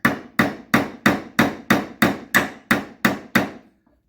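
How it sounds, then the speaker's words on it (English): A hammer pounds a nail into a wooden board with ten sharp, evenly spaced blows, each a clean close strike that rings briefly, in a steady rhythm before stopping. "I can pound the nail in with the work that I'm doing from the kinetic energy of the hammer into the nail"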